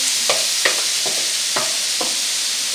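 Grated carrots sautéing in oil in a pan, a steady bright sizzle with five soft scraping stirs spaced through it, close and alone.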